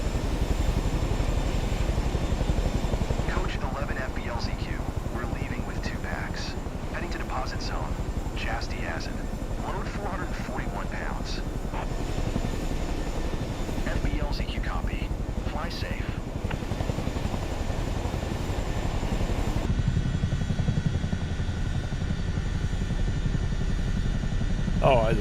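A Chinook helicopter in MSFS 2024 gives off a continuous thumping rotor drone with engine whine. It runs steadily throughout, with a person talking softly over it.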